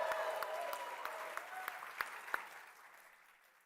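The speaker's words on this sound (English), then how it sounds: "Make some noise so everybody can hear that you're here." A live tech-conference audience applauds and cheers, a dense clatter of claps with a few sharp louder ones, fading steadily toward quiet by the end.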